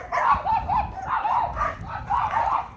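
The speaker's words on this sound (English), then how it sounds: "There's a lot of dogs back here." Several dogs bark and yip from neighboring backyards, a steady overlapping chorus of repeated barks at moderate distance throughout.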